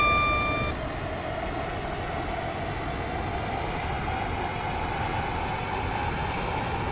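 Steady interior rumble of a WaterLine passenger train running toward Benton, a constant loud wheel-and-track roar with a few brief high tones at the start and no voices.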